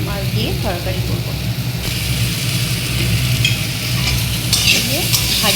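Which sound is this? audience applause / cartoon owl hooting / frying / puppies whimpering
frying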